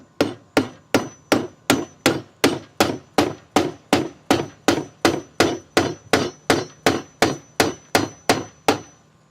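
Steady, evenly spaced hammer blows drive aluminum nails into a wooden birdhouse, about two dozen sharp knocks at a brisk rhythm, close and loud with no talk.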